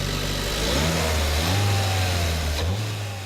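Revving engine of a 2012 Hyundai Accent with an all-new direct-injection 1.6-litre four-cylinder, steady and close, its pitch climbing and settling through a few seconds with no talk over it.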